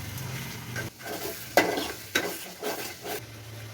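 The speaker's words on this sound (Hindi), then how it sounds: "मसलाटा देख पूरा फ्राए हो गलानी" Odia-style chicken curry masala with chili, turmeric and garlic sizzles in a pan while a spoon stirs it in several distinct scraping strokes, the frying hiss rising and falling close by.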